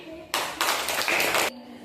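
Children clap their hands together in a dense burst of rapid applause lasting about a second, loud and close in a school classroom, with quiet room sound before and after.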